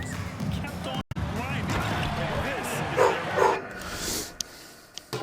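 A dog lets out a couple of short yips and whimpers amid ongoing talk and background noise, the barks brief and mid-distance, mostly masked by voices.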